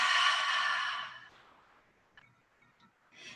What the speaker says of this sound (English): Super loud exhale